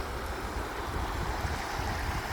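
A strong river current rushes past in a steady, broadband wash, continuous and fairly near, with no voices over it.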